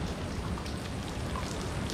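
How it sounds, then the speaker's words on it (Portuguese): Water drips and patters constantly from the rocks inside a seaside grotto at Sununga beach, a soft, dense, rain-like spatter that stays faint and even, without voices. "Olha as pedras como é que pinga água"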